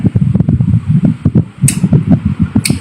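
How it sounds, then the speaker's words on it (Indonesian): An electric fan runs close to the microphone, producing a loud low whirring buffet with rapid irregular pulsing, plus a couple of brief bright swishes of air. "Suara kipas, panas kalau nggak pakai kipas."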